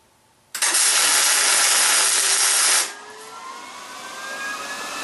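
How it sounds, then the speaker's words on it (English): A welder arcs with a steady, loud hiss for about two seconds, tacking a new steel top onto a leg vise, then cuts off, leaving a lower background hum. "and tack it."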